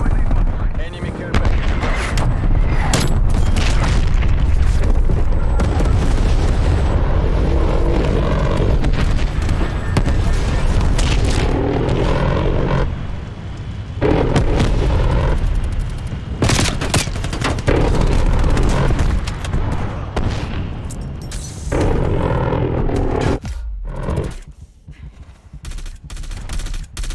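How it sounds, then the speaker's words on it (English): Artillery strikes and heavy gunfire from Call of Duty: Black Ops Cold War pound almost nonstop. Dense booming blasts and rapid bursts layer over each other, with voices mixed faintly into the chaos, before the barrage thins out near the end. "TACCOM, get some artillery inbound on my cohorts"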